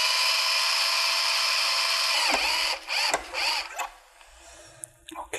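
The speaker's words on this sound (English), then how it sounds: "It cuts off the outer insulation, it also trims the end of the cable" An automatic cable preparation tool trims an RF cable's outer insulation and end, heard as a steady high-pitched motor whine that drops off partway through, followed by scraping, creaking mechanical sounds and a quieter, uneven tail.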